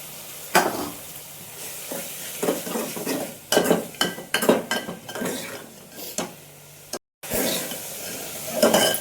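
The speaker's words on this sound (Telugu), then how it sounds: "సన్నలుగా తరుక్కున్న ఆనియన్స్ కొద్దిగా వేసుకుంటున్నాను కొన్ని నూనెలో నూనెలో మగ్గించుకొని" Finely chopped onions frying in oil in a pot, with scattered stirring scrapes and clinks of a utensil against the pan over a soft sizzle, close and intermittent, one brief dropout near the end.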